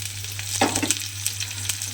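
Potatoes stirred in a hot pan while cooking Bengali neem shukto, a steady sizzle and fry with scraping stir strokes near the middle, over a constant low hum.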